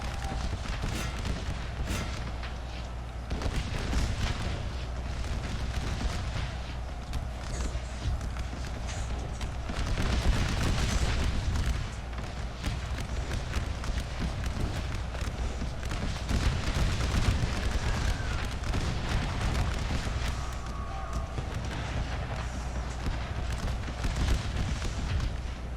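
Artillery barrages rumble through a Little Round Top battle in a video game, with repeated deep booms and volleys of gunfire rolling continuously under a busy, noisy battlefield.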